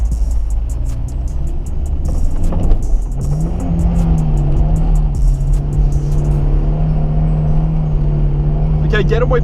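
A stock Nissan S13 200SX turbo engine drones loudly and steadily, revving with a rising pitch as it drifts in the rain with one wheel spinning, tires hissing and chattering beneath it; a brief squeal comes at the end.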